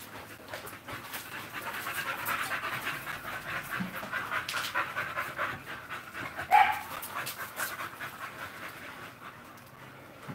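A bully-breed dog pants steadily and rapidly up close, a continuous breathy rhythm over low background noise, with one sharper sound midway.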